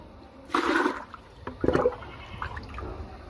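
Water is scooped and poured into a plastic bucket in two short splashing bursts, the first longer, then a quieter trickle and faint drips, close by with no talking.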